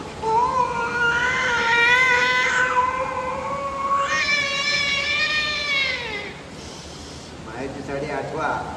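A man imitates two cats fighting, producing loud, drawn-out meowing wails that rise and bend over several seconds, followed by a break and a rougher, choppier yowl at the end.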